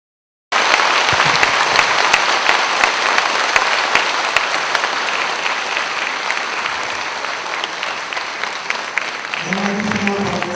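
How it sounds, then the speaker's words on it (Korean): An audience at a Saturday Buddhist dharma service at Dongguk University's Jeonggakwon applauds loudly and steadily for about nine seconds, and a speaking voice comes in at the very end. "다시 한번 큰 박수 부탁드립니다"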